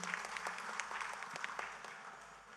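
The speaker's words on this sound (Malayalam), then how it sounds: "നമുക്കൊന്നുകൂടി കൈയടിക്കാം അവർക്ക് വേണ്ടിയിട്ട്." Sustained audience applause at a felicitation event for a priest, following a seminar, a steady dense patter of many hands clapping in a hall, moderately loud throughout with no voices on top.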